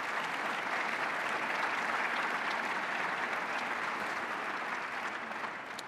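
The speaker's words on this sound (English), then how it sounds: "if you wouldn't mind giving a round of applause for the electeds and the city staff who are working behind the scenes as well" An audience at a mayor's state-of-the-city address applauds the elected officials and city staff, a dense, steady clapping from a large crowd that holds throughout and fades slightly at the very end.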